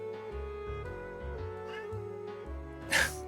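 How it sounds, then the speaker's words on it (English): A house cat cries loudly indoors, drawn-out meows over a steady background hum, ending with a sharp, louder yowl near the close. "my cat be crying up a storm"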